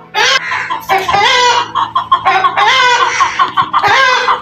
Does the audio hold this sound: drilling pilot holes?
no